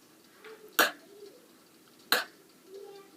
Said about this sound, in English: Open up your mouth and cough.